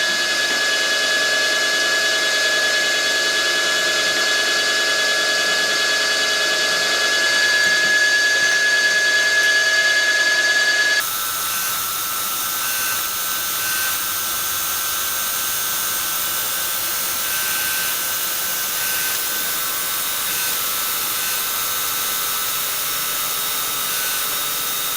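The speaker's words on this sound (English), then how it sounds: "now we have all the positions spot drilled" A machine tool spot drills hole positions in the base of a Simplex model steam engine, a steady high whine with a sharp tonal hum that abruptly changes to a lower, noisier running drone midway, continuous with no talk.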